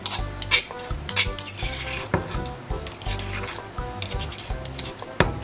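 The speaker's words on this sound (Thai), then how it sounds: "คนให้เข้ากันนะคะ" Sausage salad with lime being stirred in a bowl, with repeated close clinks and scrapes of a utensil against the dish at an uneven rhythm and no talking.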